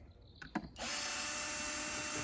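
Torx T-20 screw being undone on a Titan TTB776VAC 1400W 30L construction vacuum: a couple of small clicks and taps, then a steady, close, quiet mechanical whir running to the end.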